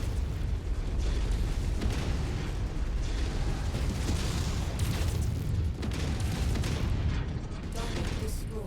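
A mech blows up in the MechWarrior 5 video game with a loud, dense explosion. A heavy rumbling roar fills the whole stretch without a break, and faint voices sit low beneath it.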